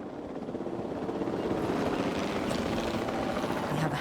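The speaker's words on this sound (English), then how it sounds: "We have a helicopter standing by," A helicopter stands by in Jurassic World Evolution 2, its rotor beating in a steady, moderately loud drone that builds slightly and holds without pause.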